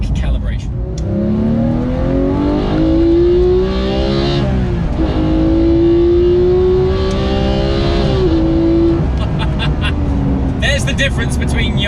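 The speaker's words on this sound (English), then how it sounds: "The manual was the first shift, the flat shift was the second shift." Porsche GT3 engine pulling hard through a manual gear change and then a flat shift, a loud rising engine note that drops briefly at each shift before climbing again, close up with some cabin noise.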